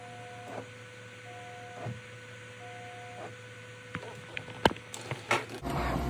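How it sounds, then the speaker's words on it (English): A Bambu Lab P1S 3D printer runs a color-changing print, giving off a steady close mechanical hum with sustained motor tones, then brief clicks and knocks near the end. "Second day of printing. Printer's doing pretty good."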